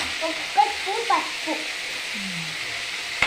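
Radish leaves fry in a pan with a continuous low sizzling hiss, while a person talks briefly over it.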